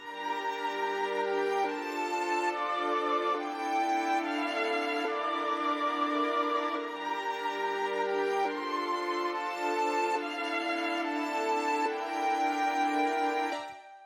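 A sustained solo violin preset from a software instrument in FL Studio plays a drawn-in melody over a drill beat, smooth and continuous for the whole stretch, with no voices.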